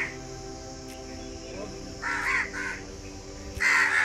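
Crows caw from a 450-year-old tree in Perwa village, Pali district, Rajasthan: a few harsh calls around the middle and a louder burst near the end, over steady background hum and faint talk.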